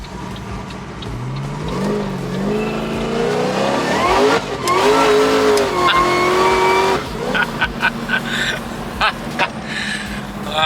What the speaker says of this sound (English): Second last run for the day in Howler with Jai.